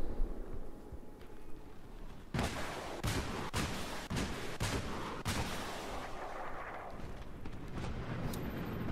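Mobile artillery firing in the video game Battlefield 3: a series of loud, sharp booming shots in quick succession, each followed by a rumbling tail over a steady battlefield background, with no talk.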